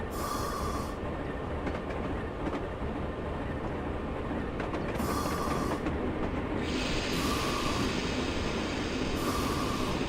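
PRR Alco RS-11 diesel locomotive in a train simulator game, under dynamic braking on the Cresson route: a steady, loud mechanical roar with rail rumble running continuously, with periodic higher-pitched tonal surges laid over it.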